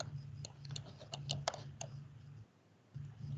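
A computer mouse clicks in a loose cluster of sharp, faint clicks during an online committee meeting, over a low electrical hum that briefly drops out.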